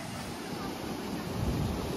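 Rushing floodwater pours over the overflowing Makardhokda dam, a dense continuous roar heard up close and steady throughout.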